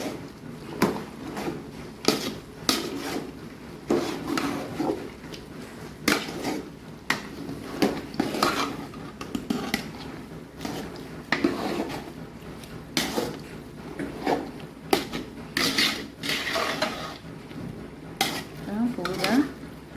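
Pork is stirred with rice flour in a pot for Mangalorean pork bafat, the spoon scraping and clanking against the metal in repeated, irregular strokes, close and fairly loud, with faint background noise.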